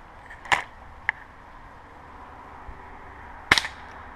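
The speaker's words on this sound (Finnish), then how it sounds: "mihin tää nyt laukaisu lähtee. Niin se meni." A gun fires while being sighted in at a target, a sharp crack followed by a lighter click, then a second loud report a few seconds later, heard outdoors without talk.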